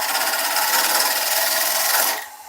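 A carbide woodturning tool cuts into a wooden bowl spinning on a lathe, making a loud, continuous rasping scrape with a fast rhythmic flutter. The sound fades out as the tool lifts away near the end.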